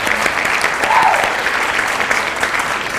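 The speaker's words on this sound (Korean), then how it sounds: "박수 한번 쳐줄까요?" An audience at a health talk on the lymph system breaks into brief, dense applause, a steady wash of many hands clapping together for a few seconds, moderately loud and even throughout.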